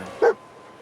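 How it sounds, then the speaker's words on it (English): In the video game Fallout 4, a dog lets out a single short bark, close and fairly loud, standing alone over quiet background ambience. "Oh, there's a dog out here."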